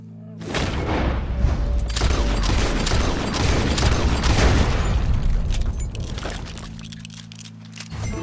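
Gunfire in Red Dead Redemption 2 during a stranger mission, heard as a dense, loud volley of shots and booms lasting several seconds before tapering off, with no talk over it.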